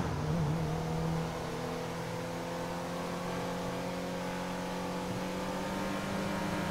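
A car cruising along a motorway in the video game GTA 5, its engine holding a steady, droning tone at speed, loud and continuous throughout with no talk over it.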